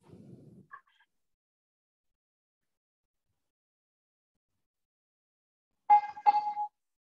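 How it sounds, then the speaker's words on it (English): A small hand bell is rung once, giving a brief pair of bright metallic strikes that ring out near the end after a long silence, preceded by a short, quiet stretch of near sound at the very start. "Can I see if I can ring this bell?"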